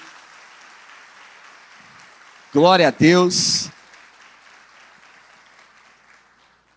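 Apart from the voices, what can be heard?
congregation applause in church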